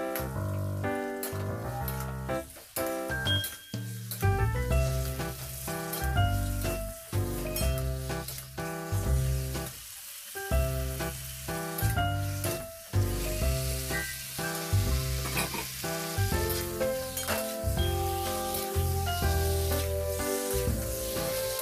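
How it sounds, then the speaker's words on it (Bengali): Chicken meat sizzles and hisses as it is fried and stirred in a pan for a spiced chicken dish, a steady crackle running continuously under prominent background music. "চলো মাংসটা ঢেলে দি।"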